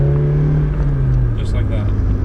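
A car engine hums loudly up close during a rev-matched downshift, its pitch holding and then sliding lower, with someone talking over it throughout.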